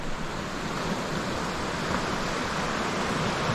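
Sea surf washes onto a beach after a storm, calmer water now, as a steady broadband rush of breaking waves with no distinct individual crashes, moderately loud and continuous.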